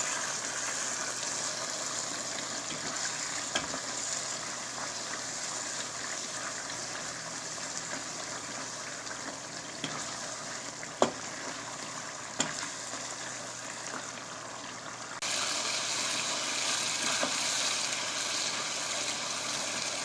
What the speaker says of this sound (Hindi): और काली मिर्च ऐड करेंगे और अच्छे से भून लेंगे